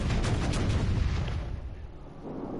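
Heavy warship guns fire rounds in World of Warships as deep booming blasts over a continuous low roar, strongest early, then fading before a last swell.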